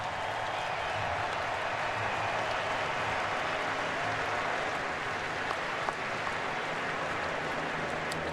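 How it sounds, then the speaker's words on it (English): A large stadium crowd at a baseball All-Star Game applauds in a steady, broad wash of clapping and cheering, distant and continuous throughout. "give him a big round of applause"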